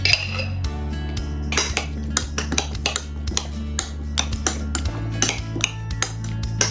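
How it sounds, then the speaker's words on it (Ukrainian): A metal utensil scrapes and clinks against a bowl while mixing pizza filling with mayonnaise, in repeated irregular strokes, close and fairly loud, with a low steady hum underneath. "Сюди додамо ще ложку майонезу та все гарненько перемішаємо."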